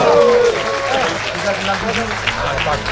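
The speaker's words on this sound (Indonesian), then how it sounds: "Oleh para bapak dan ibu tepuk tangan untuk anak Bali dong." Applause from an audience of men and women at a Balinese arak promotion event, a brief burst of clapping under and around a speaking voice.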